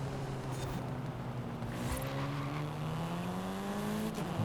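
A race car in a racing video game on a night city street circuit in Guanajuato brakes hard and accelerates again, its engine droning steadily and pitch rising through gears, with a brief tire squeal near the end.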